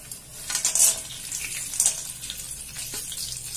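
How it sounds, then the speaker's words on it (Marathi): Peanuts frying in hot oil with cumin seeds for Khandeshi baingan bharit, a steady crackling sizzle with brief bright pops, fairly soft and with no talking. "शेंगदाणे चांगले तळून घेऊ तेलात"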